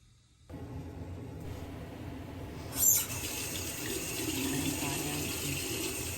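Tap water runs steadily into a bathroom sink during face washing at night, a continuous close splashing hiss with a brief louder burst partway through, no talking.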